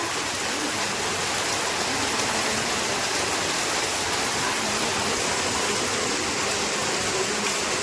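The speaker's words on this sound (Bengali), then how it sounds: "কত জোর পানি পড়ছে গাইস দেখো, সকাল থেকে লাগাতার পানি হয়েই যাচ্ছে।" Heavy rain pours down steadily, a dense, hissing downpour that never lets up.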